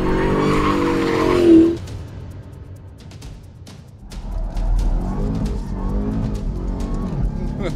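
Rear tires of a Dodge Charger Hellcat Redeye squeal as the car slides, a loud high screech in the first seconds, then engine roar continues under someone talking.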